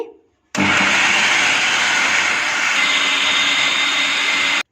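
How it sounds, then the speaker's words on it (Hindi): A mixer grinder finely grinding chopped green chillies and coriander leaves, starting abruptly after a brief pause and running as a loud, steady, high-pitched whir until it stops at the end. "इसे बारीक पीस लेंगे।"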